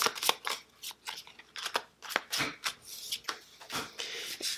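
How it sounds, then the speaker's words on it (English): Board game cards for Cartographers shuffled by hand on a table, a close, busy run of riffling and sliding swishes with short pauses and no talking. "So you shuffle them up and grab just one from each stack."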